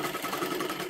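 A sewing machine hums and rattles steadily while stitching a princess blouse, a close, continuous mechanical run with no voices.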